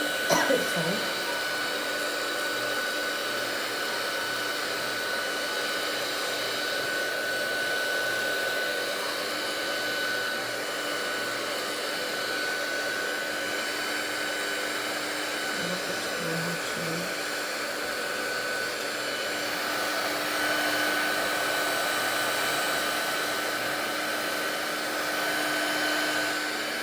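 A heat gun dries stencil paste on a crafting layout, blowing with a continuous, even fan roar and a faint high whine that runs steadily throughout at moderate loudness.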